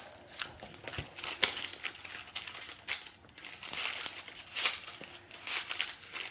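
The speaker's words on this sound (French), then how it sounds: "on va ouvrir le petit cadeau numéro" Small gift package being unwrapped, crinkling paper and plastic rustling and tearing in irregular bursts, close and moderately quiet with no talk.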